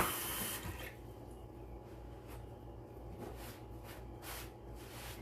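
Tap water runs steadily as food gets a light rinse at a kitchen sink before spring rolls are assembled, a soft continuous splash with slight surges, fairly quiet and with no talk.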